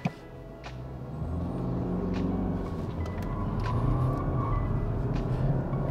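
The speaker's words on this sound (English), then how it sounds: "today I'm gonna test 0 to 100 kilometers an hour with launch control" 2023 BMW 320d M Sport with a 2-liter diesel launching from 0 to 100 km/h under launch control, heard from inside the cabin as a rising engine rumble that builds steadily with a few brief shift dips.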